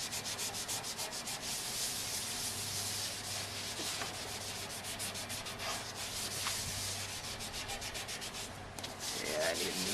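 A worn sanding pad scrubs old primer and rust off the side of a steel truck bed, a steady close abrasive rubbing that continues without pause and without speech.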